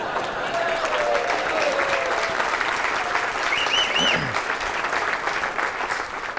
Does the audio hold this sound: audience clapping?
yes